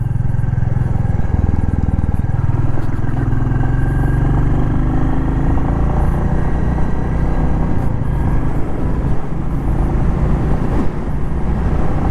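A Royal Enfield Classic 350 motorcycle engine runs with a steady low thump and rumble, the pitch briefly rising and settling as it is revved, close and fairly loud.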